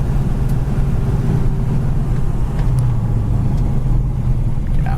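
A 1968 Pontiac GTO with manual transmission drives along, its engine a loud, steady low rumble with a constant drone and no talk over it.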